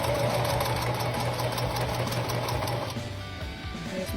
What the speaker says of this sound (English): press our foot down, hold my elastic in there, and then back stitch over it